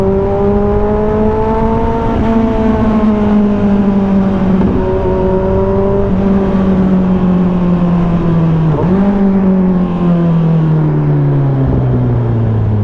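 A Kawasaki Z1000R big bike with a side-mount exhaust and longer link pipe revs steadily, its loud, smooth drone rising and dipping through several throttle blips before settling into a lower idle-like tone near the end.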